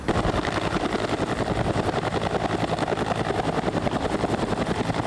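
Italian army helicopter of the 4th Aves Altair regiment from Bolzano arriving and landing at a field in the Alpine troops' camp: a loud, steady rotor chop with rapid rhythmic beating over a dense engine roar, continuous throughout.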